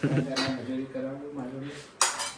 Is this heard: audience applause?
no